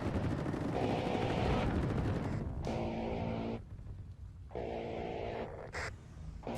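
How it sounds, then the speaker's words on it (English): Yak-B chain gun firing from a helicopter in the WARNO wargame, loud sustained bursts of rapid automatic fire broken by short pauses, with no voices. "I'm going to be using the Yak-B machine gun, chain gun, to get the kill"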